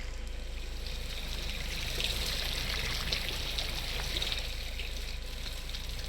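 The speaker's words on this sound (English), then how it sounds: "the fountain has a different sound as well." A video game fountain flows and trickles in a steady, gentle babble, quiet and continuous throughout, with no speech over it.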